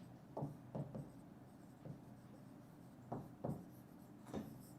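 Marker or chalk strokes on a board during a chemistry lecture, several short scratchy bursts spaced irregularly over a quiet room background.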